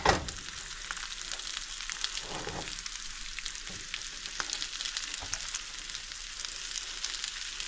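Breaded razor clams fry in a pan with a steady, close crackling sizzle that runs throughout, broken by a few soft clicks and scrapes from the pan.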